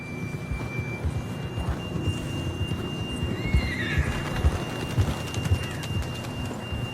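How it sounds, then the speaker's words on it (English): A horse whinnies over steady clopping hooves in the video game Red Dead Redemption 2, with a low rumbling ambience and faint birds behind. "John was riding that horse when we left Blackwater"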